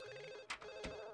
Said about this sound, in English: We're going to answer this damn phone.